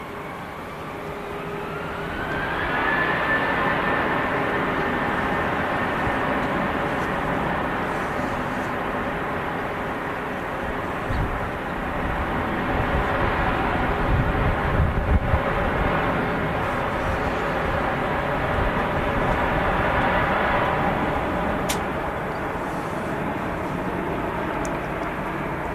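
A Ryanair Boeing 737 Max jet at Manchester Airport, its engines building into a loud, steady roar with a rising whine at the start, then a sustained broad rumble that continues for the whole stretch with no talking.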